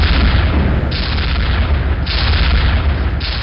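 A zappy energy gun fires in the X-Men Quake mod game, a loud, continuous buzzing roar that shifts in tone roughly once a second, with no talking over it.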